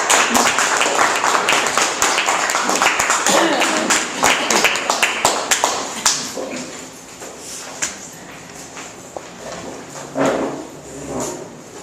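An audience at a Toastmasters club meeting in Metro Manila claps in a dense burst that gradually thins and fades, with scattered voices and shuffling as the applause dies down.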